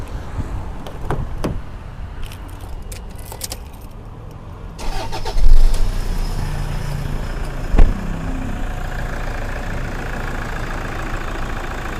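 A 2009 Toyota Vigo 3.0 diesel pickup engine cranks and catches about halfway through, then settles into a steady, fairly loud idle with a brief revving bump, heard close with no talking.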